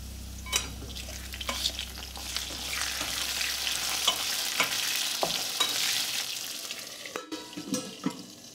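Potato pieces with a little salt sizzle under a lid over medium heat in a kadai, a soft steady frying hiss broken by a few clinks and stirring knocks, ending in a brief sharper burst.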